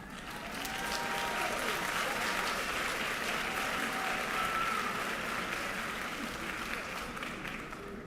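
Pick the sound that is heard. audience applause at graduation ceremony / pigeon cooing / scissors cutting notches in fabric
audience applause at graduation ceremony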